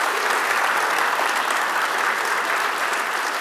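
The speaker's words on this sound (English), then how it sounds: "let's have a big round of applause" Steady, dense applause from a conference audience at the close of a technical talk, a full room clapping evenly and loudly throughout with no voices over it.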